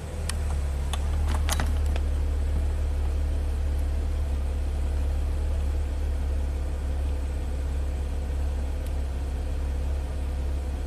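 A Chrysler Jeep engine idling steadily with a flashing check engine light and a long-crank fault, giving a constant low hum up close while a few faint clicks sound near the start.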